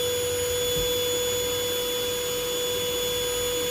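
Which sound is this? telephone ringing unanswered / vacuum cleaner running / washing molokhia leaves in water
vacuum cleaner running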